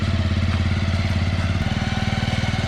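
A motorcycle engine runs up close with a steady low throb, then shifts to a faster, rhythmic chugging pulse partway through, with no talk over it.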